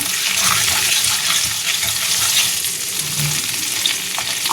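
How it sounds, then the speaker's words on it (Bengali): Mustard oil, topped up after frying prawns, sizzles loudly and steadily in a pan, a close, unbroken frying hiss. "আর এই যে সর্ষের তেলে আর একটু সর্ষের তেল দিলাম"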